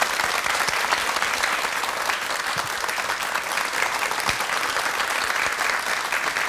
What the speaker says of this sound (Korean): 박수 보내주시겠습니까?